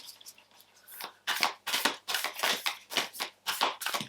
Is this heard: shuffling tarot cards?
yes